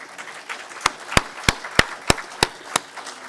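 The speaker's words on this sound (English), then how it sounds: "Let's get a round of applause." Applause for a lockpicking contest winner at the closing awards of SkyDogCon 2013, a hacker conference: a run of sharp, evenly spaced claps close by over a soft, low crowd murmur.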